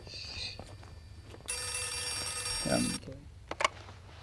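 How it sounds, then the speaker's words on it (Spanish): A telephone rings inside a horror video game, Outlast 2, with one bright, sustained burst of ringing standing out clearly against a dim, quiet background, then a couple of short knocks at the end. "El teléfono que está tocando."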